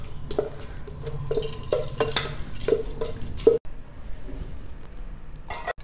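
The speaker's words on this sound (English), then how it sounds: "add this rice and dal along with the water in which it was soaked" Soaked rice and dal poured with their soaking water into a pot for masala khichdi, a few clinks and scraping stirs against metal followed by a quieter pour and a final clatter.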